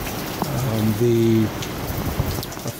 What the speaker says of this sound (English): this wind is blowing like crazy right now